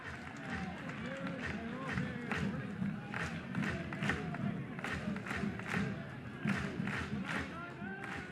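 A crowd at a college baseball game between Oklahoma and Kentucky keeps up a steady, distant roar of cheering and rhythmic noise, with rising surges of shouts and clapping throughout.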